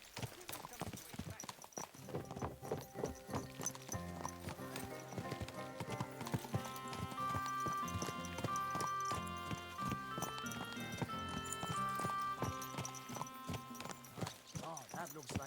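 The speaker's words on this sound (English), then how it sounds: "Oh, that looks like a bloody expensive horse." Rhythmic horse hooves clip-clopping in the video game Kingdom Come: Deliverance II, with a possible whinny. They sound at moderate volume beneath a layer of sustained tonal music that swells midway and carries on to the end.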